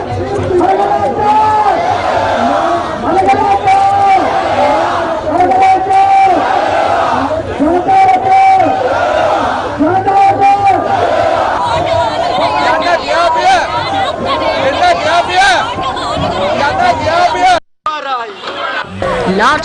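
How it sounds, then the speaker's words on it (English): Large protest crowd at the Galle Face demonstration site in Colombo, many voices chanting and shouting together in rising, rhythmic waves, loud and continuous, with a brief drop near the end. "Large crowds gathered at the demonstration site at Galle-Face even after the long holiday last week."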